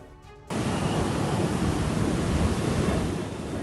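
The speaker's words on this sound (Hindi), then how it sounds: "आज समंदर में इस साल का सबसे बड़ा हाई टाइड आया" Sea waves surging at Juhu Chowpatty, Mumbai, during the year's highest monsoon high tide: a sudden swell into loud, continuous roaring surf with heavy wind-like noise.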